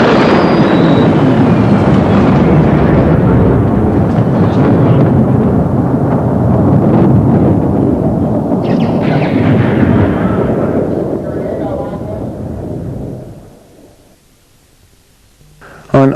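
A long, heavy rumble of thunder from a rocket-triggered lightning bolt, loud and continuous for many seconds before fading away into near silence, ending with a brief click.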